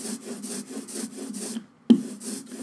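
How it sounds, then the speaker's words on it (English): Rhythmic rubbing, rolling strokes of an inked brayer across linoleum repeat back and forth at a steady pace, close up, with a brief pause and a sharp knock before rolling resumes. "It makes a really nice kind of smooth sound when you roll across it"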